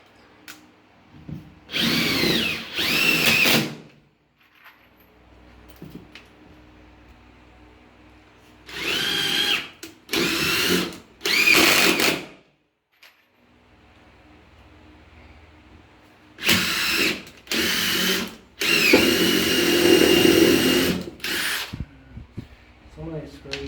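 Power drill driving cheap screws into a wooden floor, several separate bursts of whirring with pauses between them, close and fairly loud, with quiet room tone in the gaps.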